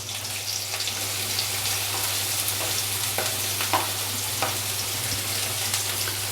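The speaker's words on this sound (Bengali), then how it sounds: "আমি আবার একটু তেল দিয়েছি, তেলটা গরম হয়ে যায়। এবার আমি ওর মধ্যে দেব প্রথমেই 1 চামচ রসুন," Garlic and onion fry in hot oil for a Bengali fish-fritter recipe, giving a steady close sizzle with occasional sharper crackles and stirring clicks over a low constant hum, with no voices.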